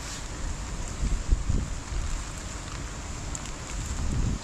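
Gusty northeast monsoon wind rushing past the microphone on a vegetable farm, a steady low rumble with occasional stronger buffets, no voices.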